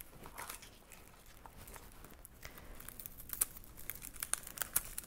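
Fingers peel away the papery outer skin of an onion, a faint, close crinkling and crackling that grows into a few sharper tearing snaps toward the end.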